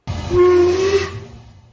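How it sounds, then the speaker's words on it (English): A train guard's whistle: a single loud, breathy blast lasting over a second, steady then fading, heard close with a low rumble beneath. "the guard blew his whistle and we were off"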